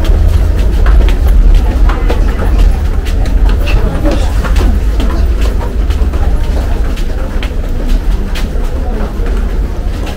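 A local train pulls into a busy station platform near Barasat with a loud, heavy low rumble and rattling wheels, and nearby voices and crowd noise blend into the din.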